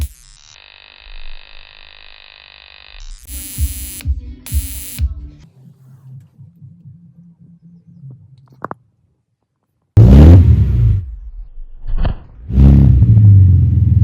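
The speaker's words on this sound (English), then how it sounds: "I wired that up to the spark plug and it actually works." A modified taser wired to a spark plug crackles and buzzes in bursts to light a homemade flamethrower on a Mercedes C400 project car, followed by loud roaring whooshes of flame near the end, with no talk.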